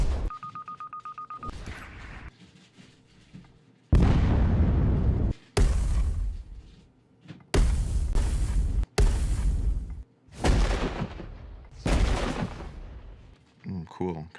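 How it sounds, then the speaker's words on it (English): A series of heavy booming blasts, each followed by a rumbling decay, coming one after another after a brief electronic tone at the start. "I'm imagining like several small explosions to start."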